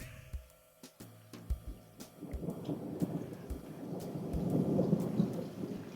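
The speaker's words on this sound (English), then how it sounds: "It is thunderstorming where I am." Deep, rolling thunder rumbles and swells over steady rain, with scattered sharp drips and taps standing out nearby.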